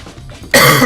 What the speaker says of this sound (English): I can't stop fucking coughing either.